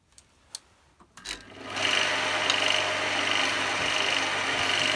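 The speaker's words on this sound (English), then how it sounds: "see what I can do with this, just with the roughing gouge." A roughing gouge cutting a spinning piece of wood on a lathe: a few faint taps, then a loud continuous rough shaving rasp that starts suddenly and carries on steadily, close up, with no talk.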